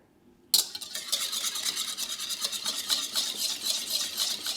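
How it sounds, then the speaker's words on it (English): Egg yolks, vanilla extract and milk gently whisked together in a bowl for soufflé pancakes, a close, steady scraping swish that starts abruptly after a brief silence and continues evenly without speech. "We're going to gently whisk this together."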